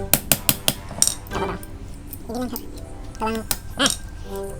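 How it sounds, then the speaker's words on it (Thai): A blender jar bearing hammered out with a socket, five sharp metallic hammer strikes in quick succession at the start, followed by someone speaking. "ตอกไว้ครับ"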